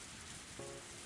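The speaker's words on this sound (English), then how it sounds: "It's very late and raining very hard" Heavy rain at night in a video game, a dense, steady hiss of downpour filling the whole short moment, with a faint tonal note briefly rising beneath it.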